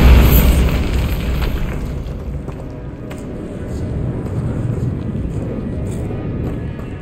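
A Bombarda blasting spell goes off in Hogwarts Legacy: one loud boom at the start, then a long low rumble that slowly fades, with faint debris sounds trailing after.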